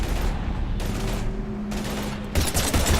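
Heavy gunfire from the Mass Effect video game, continuous loud volleys of shots with a sharper burst toward the end, playing alone without talk.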